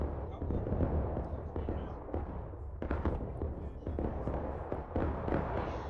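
Musket volleys crack across a Civil War battlefield at Antietam in War of Rights, dense overlapping gunshots popping near and far in ragged bursts, with a faint voice underneath.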